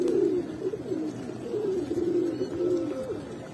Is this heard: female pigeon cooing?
yes